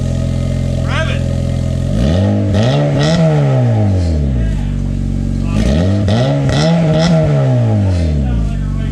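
A Honda Civic fitted with a cheap aftermarket Amazon exhaust, silencer removed, revs hard twice, each rise climbing and falling back over a rumbling idle, close and loud.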